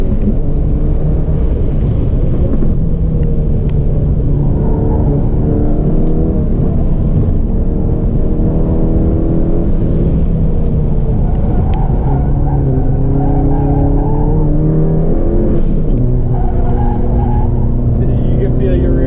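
A 2015 Volkswagen Golf GTI MK7 running a reversed time attack lap at TMP through chicanes, its engine droning loud and continuous with rising and falling revs and shifts, captured from inside the car with faint voices now and then.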